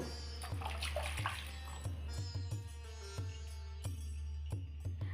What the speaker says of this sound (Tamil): ரெண்டு கப் தண்ணீர் ஊற்றணும்